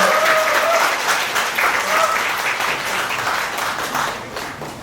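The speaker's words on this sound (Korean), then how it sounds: "박수 부탁드립니다." Wedding guests applaud in a hall, giving a loud, sustained round of clapping that holds steady for the whole stretch, with a faint voice briefly audible underneath.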